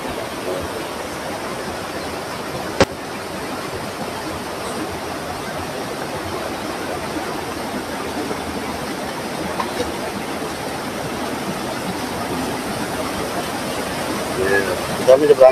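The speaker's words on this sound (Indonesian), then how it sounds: "Kita menyeberangi sungai ini." River stream flowing near Sendang Gile waterfall at Senaru on Mount Rinjani, a steady, close rushing wash of water that fills the whole stretch without pause.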